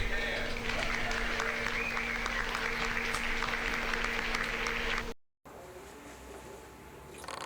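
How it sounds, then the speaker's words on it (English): Studio audience applause at a talk show, a dense, even clapping that runs loud for about five seconds, breaks off briefly, then returns quieter and more distant. "Let's give him a round of applause."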